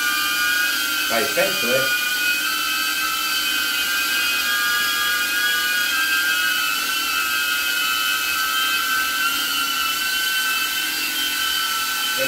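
A DJI Avata drone flies indoors with a constant high-pitched propeller whine that stays loud and steady from start to finish, while people talk over it.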